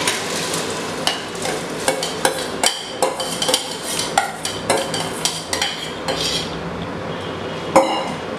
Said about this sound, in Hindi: और वो जो चावल हमने भिगोया है अब हम उसे डालने जा रही हूँ।